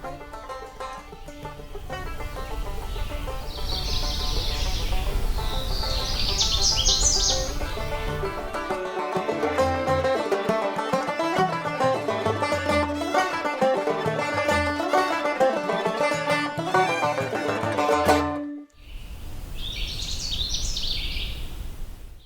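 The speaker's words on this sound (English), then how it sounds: "We'll come back to this Canada warbler in a future episode" A Canada warbler sings in Allegheny National Forest, bright rapid chattering phrases rising from the woods. Tonal background song fills the middle stretch, and another burst of warbling comes at the end.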